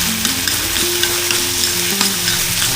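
Onion frying in a wok, with a loud, steady sizzle running throughout and punctuated by regular light scraping taps of a spatula stirring it, with no voices.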